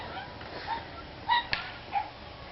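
Dogs give a few short, faint yips and whimpering barks at a distance, spaced irregularly over a quiet outdoor background.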